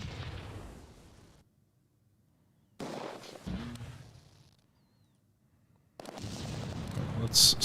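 Gunfire from troops in the World War II strategy game Close Combat 2, set at Arnhem: short bursts of shots and blasts broken by silent gaps, with a louder, busier burst at the end.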